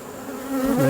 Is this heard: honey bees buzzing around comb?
yes